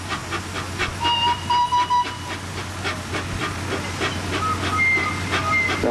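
A steam engine runs under load on a prony brake, giving a continuous hissing chuff with regular rhythmic puffs and a few faint whistling tones, loud and close.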